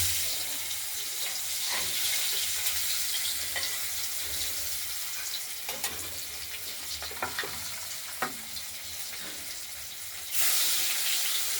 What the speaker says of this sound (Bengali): কড়াইতে তেল দিয়েছি, তেলটাও গরম হয়ে গেছে। দেখতেই পাচ্ছেন মাছগুলোকে আমরা এবার ভেজে নেব।